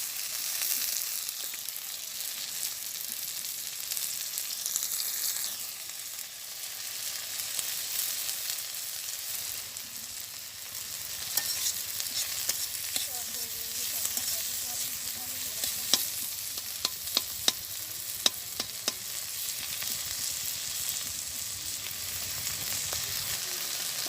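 Water lily stems (shapla) with onion and chili frying in oil in a village kitchen, a steady hiss of sizzling throughout, with a few sharp clicks and scrapes of stirring in the later part.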